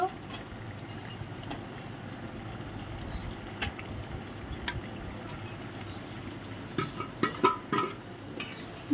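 Fried small local prawns go into a pan with bottle gourd and are stirred, giving a low cooking rumble and a few sharp metal spoon clinks against the pan near the end.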